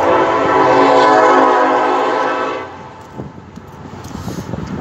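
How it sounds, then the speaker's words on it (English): A train passes close by with a loud, sustained horn blast that lasts over two seconds and then cuts off, leaving rumbling rail noise and clatter fading behind it. "Now there's a fucking train."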